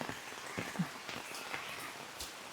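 Rain falls steadily in a forest, a continuous even hiss of drops at moderate distance with a few faint thuds and no talking.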